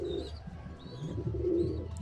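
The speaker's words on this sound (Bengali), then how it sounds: "এটা আমার অনেক আগের কবুতর" A pet pigeon kept indoors coos softly in low, repeated rolling notes, close by and fairly quiet, with faint chirps above.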